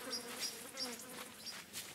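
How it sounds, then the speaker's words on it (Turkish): Houseflies in the video game Decay of Logos drone with a thin, wavering buzz that swells and fades in short bursts, faint but steady. "Şu an şu sinek sesini duyunca bir"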